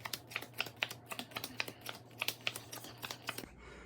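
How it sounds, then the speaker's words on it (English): Playing cards are dealt one by one into three piles, each card landing with a crisp light snap in a quick, steady rhythm of many taps, close and quiet, with no speech. "you're going to deal out 21 cards into 3 piles."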